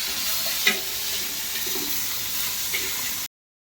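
Broiler chicken pieces frying in oil, a steady close hiss and sizzle with a couple of faint clicks, continuous before cutting off abruptly.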